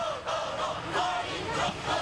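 A large crowd shouts and roars together in rising, surging waves, loud and continuous without pause.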